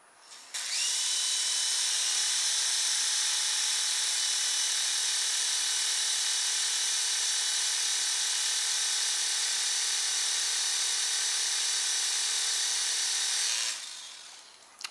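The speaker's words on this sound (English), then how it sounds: "The motor's starting to run before the rotors are moving, so I think we might have some teeth missing in there." A toy twin-rotor helicopter's electric motor whines steadily at close range, a continuous high buzzing drone with stripped gear teeth, running unbroken for about thirteen seconds before cutting off.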